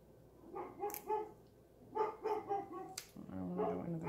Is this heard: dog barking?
yes